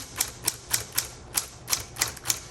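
Keystrokes on a Smith Corona Electra 110 electric typewriter, eight crisp, evenly spaced clacks typing out sentences at a steady pace, close and alone over a faint motor hum.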